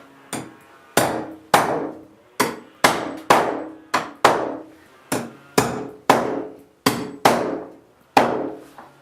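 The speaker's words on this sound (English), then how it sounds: "We're going to put this over here where the wires come down through the top plate and nail them on." Hammer nailing protective plates onto wall studs over wiring, about a dozen sharp, evenly spaced blows ringing out close and loud with no talk.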